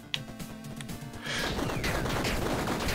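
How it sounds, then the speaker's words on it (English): Something blows up in the Tiny Rogues game, a sudden crashing explosion that swells into a sustained, loud roaring burst after a short stretch of clattering game sounds. "does this count as an explosion for blowing this up?"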